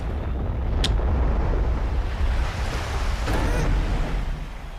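Ocean surf on a beach washes in as a steady, broad roar of breaking waves with wind buffeting the microphone, continuous and fairly loud throughout.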